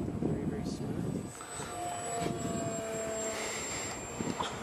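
Small RC trainer model airplane flying during a flight lesson, its engine giving a steady, moderately loud drone at reduced throttle throughout, with voices talking over it.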